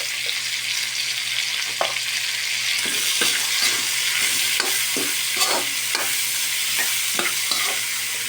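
Mushrooms, baguio beans and carrots stir-fried for pansit guisado, a steady loud sizzle in the pan broken by repeated scraping and clattering strokes of a spatula.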